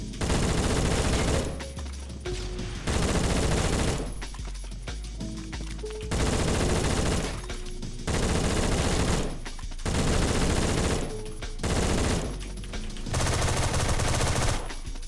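Loud bursts of video game gunfire from a compact weapon, rapid automatic volleys repeating in roughly one-second blasts separated by short pauses, with no talking.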